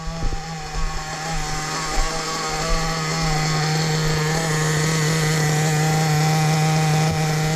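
A Hobao Hyper VS2 nitro RC engine on break-in idles steadily, a loud continuous buzzing drone holding an even note throughout with no talk.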